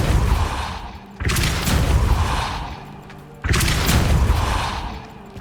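Depulso force spells in the Hogwarts Legacy video game go off as two heavy booming blasts about two seconds apart, each a sudden loud thump with a rumbling tail that gradually fades.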